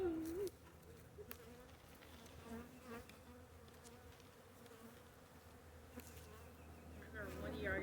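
A big honey bee swarm hums steadily as the bees pile into a box, a dense continuous buzz close by with individual bees whining past, fairly faint overall with a few soft knocks.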